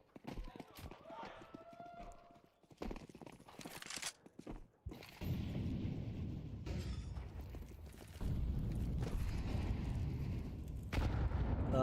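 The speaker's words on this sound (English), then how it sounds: "Nade landing on the stairs" A grenade lands and explodes during a Counter-Strike match at IEM Dallas 2025, with sharp in-game gunfire and impacts, footsteps and a dull boom under continuous commentary.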